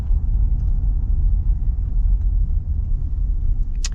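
A 2024 Nissan Frontier SL pickup pulls away from a stop, its engine a steady, close low rumble that holds constant throughout with no talk over it.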